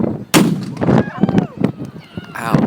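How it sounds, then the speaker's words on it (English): A big starting cannon fires at a combat-themed triathlon start, one loud, sharp blast, followed by crowd voices and shouting. "it's a big cannon, so y'all hold on"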